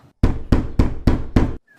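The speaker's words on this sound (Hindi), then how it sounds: "दरवाजे पर दस्तक होती है।" Five loud, evenly spaced knocks on a door, heard close and alone, with a short silence after.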